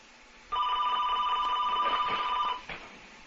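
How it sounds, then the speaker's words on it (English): A mobile phone rings nearby in a quiet room with a bright, electronic tone that lasts about two seconds, followed by a short second burst. "Was that an alarm clock? That was just my phone."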